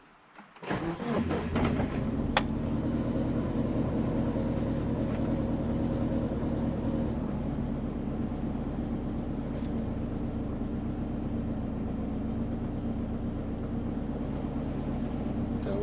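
A Subaru Forester engine under tuning starts up and settles into a steady, close, continuous idle, a low droning hum that holds evenly for the rest of the clip without speech.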